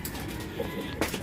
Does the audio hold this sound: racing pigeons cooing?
yes